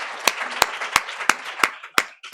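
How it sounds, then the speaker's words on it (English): Sharp, evenly spaced claps ring out about three per second over a soft wash of background clapping and murmur at a start-up event in The Hague. "I'd like to start with another big round of applause"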